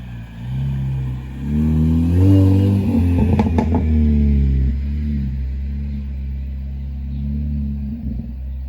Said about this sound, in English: I said my car pops, so I'm gonna try to demonstrate that for you guys by just driving down the road and coming back.